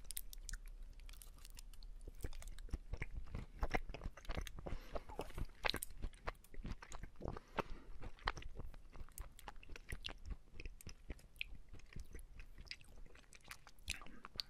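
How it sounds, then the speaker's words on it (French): Half-melted chocolate with a caramel filling being bitten and chewed up close, with dense, sticky crunching and wet mouth sounds repeating steadily throughout, no talking. "goûtons ce chocolat qui est à moitié fondu"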